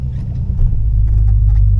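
A 1970 Dodge Coronet 440 engine idles with a deep, loud, steady rumble as the car is pulled out of a garage.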